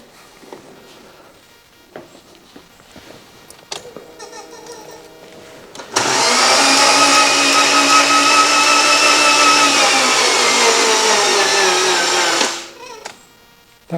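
A Lotus Elan engine left parked for four years is cranked over by its starter: a loud, steady, whirring drone that holds for about six seconds and then quickly winds down without catching, after a few quiet knocks and clicks.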